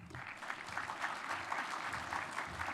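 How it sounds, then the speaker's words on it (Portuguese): Brief applause from an audience at the opening of a Pharmanager business event, a steady, moderately faint clapping wash lasting a few seconds without speech. "Nossos aplausos ao doutor Renato Porto."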